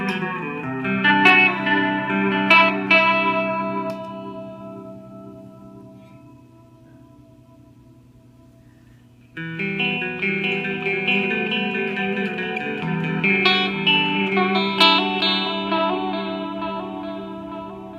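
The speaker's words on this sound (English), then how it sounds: "And here is the Echorec. Let's do a short echo first to begin with." An electric guitar with Alnico 2 pickups plays through a TC Electronic Alter Ego V2 pedal on its Echorec setting with a short echo into a Crate Palomino amp. Chords ring out with quick slapback repeats, fade to a low sustain, then strike again.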